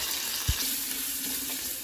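Curry leaves dropped into hot oil for a tempering: a brief soft thump as they go in, then a faint, steady sizzle and crackle, quiet and close, with no talking.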